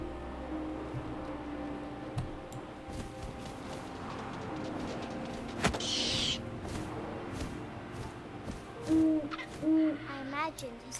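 An owl hoots in the video game What Remains of Edith Finch, two clear low hoots near the end over a soft windy ambience with scattered rustles and small clicks.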